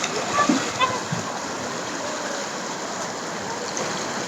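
River water rushes and splashes steadily nearby, a continuous broadband wash with a few brief louder splashes early on.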